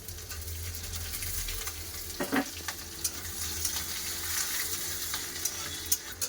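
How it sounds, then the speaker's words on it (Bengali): Chopped ginger and green chillies sizzling in hot oil in a pan, a steady close crackle with a few stirring scrapes, no voices. "আদা কাঁচা লঙ্কা সব ভালো করে ভেজে নিয়েছি"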